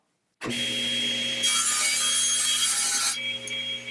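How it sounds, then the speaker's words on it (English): A saw cuts through a sheet of plywood nearby, starting abruptly and running as a loud, steady rasping cut for about three and a half seconds, brightening in the middle stretch before easing off. "I'm going to take my first piece of plywood and I'm going to make my first cut."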